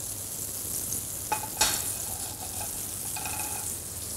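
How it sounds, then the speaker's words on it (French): Butter melting in a hot pan before snow peas go in, a soft continuous sizzle at low level with a sharp crackle pop partway through and faint tonal squeaks later. "Donc le beurre à fondre."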